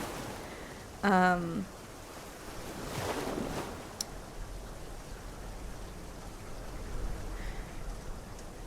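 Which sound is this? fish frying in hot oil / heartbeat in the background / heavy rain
heavy rain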